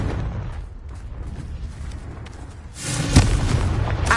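A Confringo spell blast from Hogwarts Legacy. Low rumbling combat noise gives way to a loud fiery explosion partway through, with a sharp booming burst at its peak and a roaring tail afterward.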